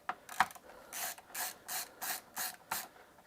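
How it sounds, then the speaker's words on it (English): Small screws being backed out of a PS5 Slim board during an HDMI port repair, heard as a run of short, rhythmic ratcheting clicks from a screwdriver, close and fairly quiet, with no speech. "So we have 2 more screws to take out here."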